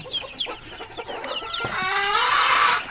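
A sick hen clucking close by, a few short clucks followed by a longer drawn-out squawking call.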